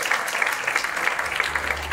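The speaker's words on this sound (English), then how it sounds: "Just give them a round of applause." Parents and guests clap at a preschool graduation and concert, a steady patter of many hands that fills the room, fairly close and moderately loud, with a low hum joining toward the end.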